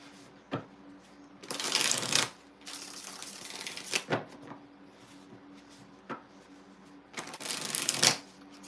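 Tarot cards are riffled and shuffled in short, crisp bursts, with a few taps and pauses between them, close by and alone.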